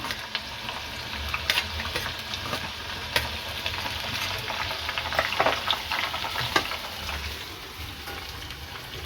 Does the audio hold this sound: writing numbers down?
no